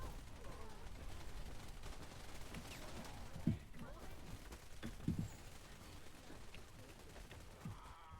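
Gunfire in the Wild Assault PvP shooter, with a couple of sharp, distinct shots and scattered distant fire over constant low battlefield noise.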